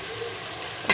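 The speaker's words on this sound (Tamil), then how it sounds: "இங்கிட்டு மீன் பொரிஞ்சிக்கிட்டு இருக்காங்க பாருங்க" Fish frying in a pan while a fish curry is being prepared, a steady close hiss of sizzling oil with a brief louder burst of spitting near the end.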